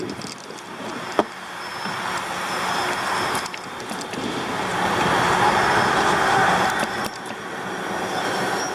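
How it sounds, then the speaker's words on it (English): Cars cross the Highway 52 bridge over the Lynches River, a steady roar of traffic rising and falling as vehicles pass, with a sharp clack early on and a faint high whine. "as you hear the cars go by"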